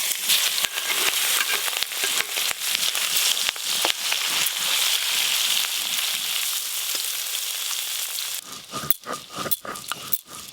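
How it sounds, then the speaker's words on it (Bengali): Shrimp lightly fried in hot oil for a shrimp bhuna, giving a steady, dense sizzle with sharp crackles and pops throughout and a burst of busier spattering near the end. "চিংড়ি মাছের ভুনার জন্য চিংড়ি মাছগুলো একদম হালকা করে ভেজে নেব।"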